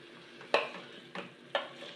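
A spoon stirs chopped olives in a pan for an olive tagine, giving three distinct scraping strokes with soft sizzling between them, close and fairly quiet.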